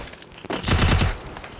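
Rapid automatic gunfire from a mobile shooting game, a dense burst that swells and fades within a second or two, loud and close.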